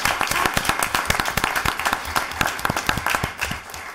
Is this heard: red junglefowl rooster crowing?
no